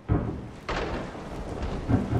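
A thunderstorm rumbles in the video game Resident Evil 7, with low rolling thunder cracks and steady rain hiss, moderately loud with no talking.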